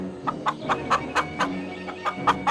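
A white chicken held on a stick clucks in a steady run of about nine short, evenly spaced clucks, close and moderately loud over a low background hum.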